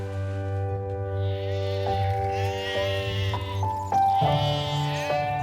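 Sheep bleating on a 100-acre sheep farm in rural Hampshire: drawn-out, wavering calls that rise and shift in pitch over a steady buzzing drone, fairly close and continuous.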